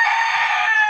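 Chicken calling close by, a single loud, drawn-out tonal cry lasting about a second, alone with no talk.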